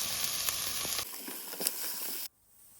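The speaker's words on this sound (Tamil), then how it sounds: "இஞ்சி உள்ளி பச்சை வாசனை போகும் வரை நன்றாக வதக்குவோம்" Ginger and garlic sizzle in hot oil for a Jaffna-style goat curry, a bright close frying hiss with a few stirring clicks, which cuts off abruptly near the end.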